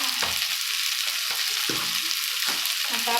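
Red chili powder, salt and turmeric sizzling in a hot pan over lowered gas, a steady loud crackling fry with occasional stirring scrapes and clinks throughout.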